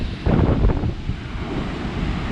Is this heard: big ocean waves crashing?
yes